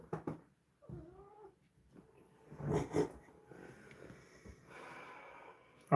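A cat meows and caterwauls in a few short, close calls, with a snorting breath and sneeze-like bursts between them, in an otherwise quiet room.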